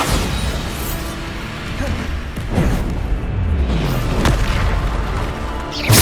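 Booming magical blasts from the Bombarda spell in the video game Hogwarts Legacy, loud and dense with crashes and whooshes of combat, layered with shouted spell names.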